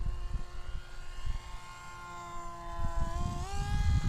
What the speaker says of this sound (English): Noisy little motor.